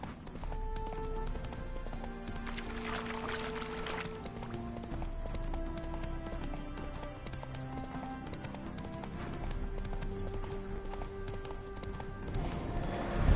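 Game horse hooves clip-clop steadily at a walk on a quiet path, faint and rhythmic beneath soft background music.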